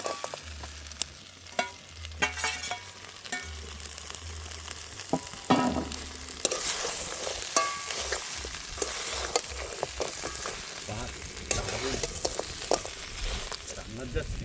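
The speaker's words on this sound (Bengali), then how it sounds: "এবার কাঁকড়াগুলো দিয়ে ভালোভাবে কষিয়ে নেব।" Crabs fry and sizzle in spiced oil with salt and turmeric in a pot on a boat, with stirring scrapes and crackling that grow louder partway through, and faint voices in the background.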